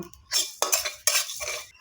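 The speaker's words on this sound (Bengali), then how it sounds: "এটা আমি শুকনো খোলাতে একটু ভেজে নেব।" Whole cumin, panch phoron and garam masala dry-roasting in a dry pan, heard as a few distinct scraping and stirring clinks of a utensil against metal, close and fairly quiet with no talking.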